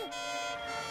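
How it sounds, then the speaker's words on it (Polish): An alarm blares in a children's cartoon, a steady electronic tone holding loud and unbroken for a moment. "To ja włączyłem alarm."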